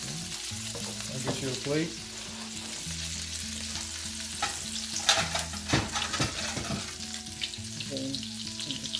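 Turkey patties, Indian style, fry in hot oil and get flipped in the pan, giving a steady crackling sizzle with stirring and scraping bursts over soft background music; a voice briefly speaks.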